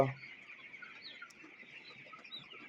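A broiler rooster on a poultry farm gives soft, steady clucks and murmurs that run continuously, with a brief louder sound at the very start and no talk.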